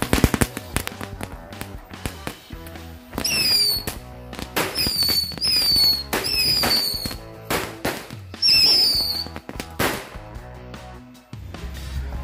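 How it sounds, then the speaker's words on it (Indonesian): Rapid bursts of chili firecrackers exploding, loud sharp cracks in dense clusters with brief whistling pops, pausing and restarting several times. "Kita tambahkan mercon cabai biar bisa nyala sekaligus guys"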